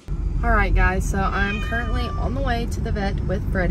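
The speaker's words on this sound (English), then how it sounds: "You can probably hear him meowing in the back." A cat meows repeatedly from a carrier in the back of a car on the way to the vet, with several drawn-out cries under a person talking nearby.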